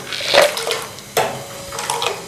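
A ladle of cold water splashes into a pot of boiling Kashmiri pink chai in two short, close pours with a bubbling simmer between them.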